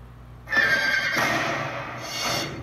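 A horse gives a loud, close whinny that rises sharply and trails off, followed by a second shorter neigh, with faint hoof clip-clop underneath.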